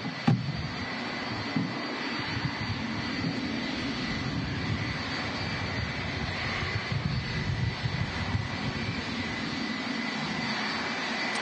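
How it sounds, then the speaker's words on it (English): Jet airliners, a Boeing 757 and a 777, cross over at Manchester Airport, producing a loud, continuous engine roar and whine that stays steady from start to finish, with no talk. "Two aircraft crossing over. 757 and a"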